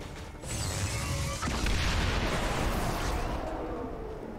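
Claymore mine exploding in XCOM 2, a loud blast with a sustained rumbling boom that carries on for several seconds.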